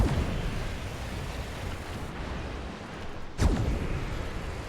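A destroyer's guns in a naval battle game fire with a deep boom near the start and another sharp, loud report later, each followed by a rumbling tail over a steady low background roar.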